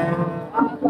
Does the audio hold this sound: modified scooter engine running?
no